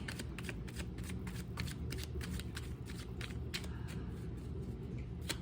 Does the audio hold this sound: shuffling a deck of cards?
yes